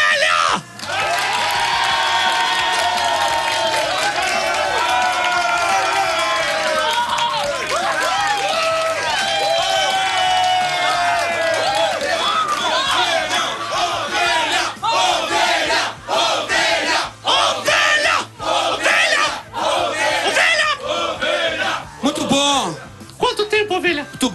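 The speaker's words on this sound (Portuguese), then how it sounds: "eu quero receber aqui, com as palmas de todos vocês, o meu amigo Ovelha" A live audience at a Detonator jam roars, whoops and yells as guest Ovelha is welcomed, a loud, dense crowd din that holds steady, then breaks into choppier bursts of shouts and possible clapping toward the end.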